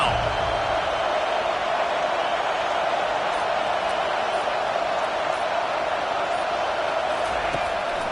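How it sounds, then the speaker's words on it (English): At a college football stadium, a huge crowd roars steadily on a third-down defensive play, a loud continuous wall of noise with no clear breaks. "Decibels rising as the crowd gets behind this defense on 3rd down."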